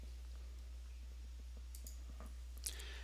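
Faint mouse clicks on a computer running donation software, a few soft isolated taps with one sharper click near the end, over a low steady electrical hum.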